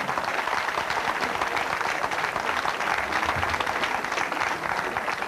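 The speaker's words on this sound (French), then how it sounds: "Applaudissez très fort" Audience applause at a recorded comedy stage show, a continuous, even roar of clapping from a large crowd, steady throughout with no pauses.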